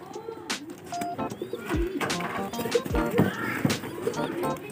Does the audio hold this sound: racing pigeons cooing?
yes